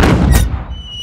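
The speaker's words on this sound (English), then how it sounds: "Right, let's fire the cannon." A single loud cartoon cannon-like boom with a sharp blast and a short fading rumble, followed by a thin high ringing tail.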